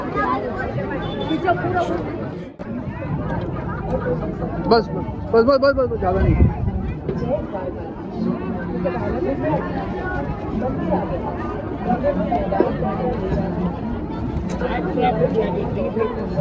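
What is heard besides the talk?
large crowd of pilgrims at Bet Dwarka temple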